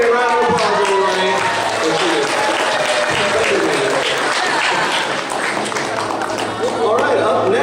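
Convention audience at a costume contest applauds a contestant, sustained crowd clapping with scattered cheers and voices talking over it, tapering slightly near the end.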